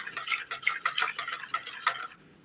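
A spoon stirs katmer dough mixture in a bowl, a rapid series of close, rhythmic scraping clicks, about a dozen strokes, fading out at the end.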